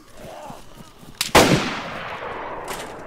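A single loud gunshot cracks out in the DayZ video game, followed by a long rolling echo that fades slowly, with a fainter shot just before it.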